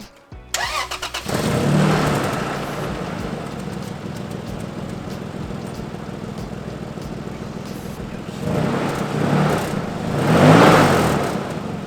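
A Toyota Tacoma fitted with one-ton axles and an exhaust down to just two catalytic converters cranks over briefly and fires up. It settles into a steady, fairly quiet idle, then rises in a couple of light revs near the end.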